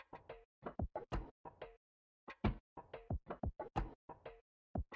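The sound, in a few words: percussion loop in a sample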